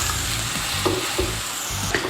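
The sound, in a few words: burger patty sizzling in oiled pan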